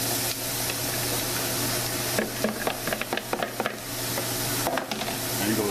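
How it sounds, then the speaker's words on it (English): Vegetables tumble into a sizzling toasted flour roux and get stirred, a steady frying hiss broken by bursts of spoon scraping and crackling as the pieces hit the hot pan. "Now to that, we're going to add all our vegetables to the roux."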